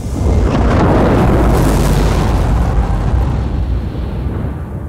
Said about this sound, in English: what should have been another controlled nuclear detonation by the Alliance